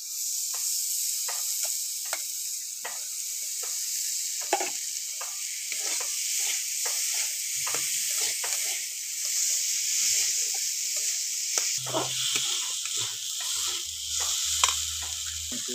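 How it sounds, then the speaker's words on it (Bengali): Soaked moong dal sizzling and frying in a pan for a banana-flower ghonto, with a spatula stirring and scraping in steady repeated strokes over a continuous hiss, close and clear with no talking. "এবার ভিজিয়ে রাখা মুগ ডালটা দিয়ে দেবো।"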